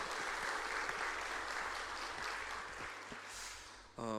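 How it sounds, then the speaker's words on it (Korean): A church congregation applauds with sustained, moderately faint clapping that carries on evenly, ending with a brief tonal sound at the very end. "우리 하나님께 감사와 영광의 박수 돌리겠습니다"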